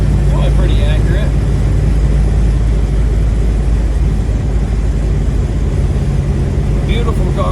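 Steady, loud cabin rumble of a restored 1969 Chevelle SS 396 driving on the road, engine and tire drone holding constant throughout with faint higher sounds near the start and end.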